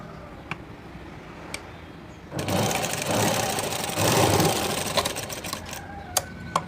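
A sewing machine top-stitches a blouse waistband. Light ticking is followed by a steady, close mechanical whir that starts after about two seconds and continues with small clicks.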